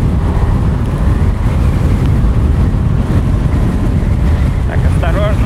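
Loud, constant headwind buffeting the microphone while riding a Kugoo M4 Pro electric scooter, a roaring rumble throughout, with faint brief squeaks near the end.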